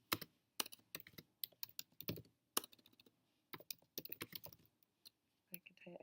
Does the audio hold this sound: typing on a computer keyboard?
yes